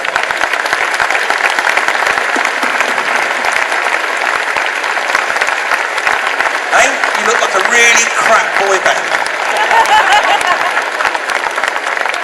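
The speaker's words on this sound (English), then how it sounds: "take the applause of this wonderful audience" An audience at a classic car show at the NEC Birmingham applauds steadily and loudly throughout, with a few people talking and calling out over the clapping.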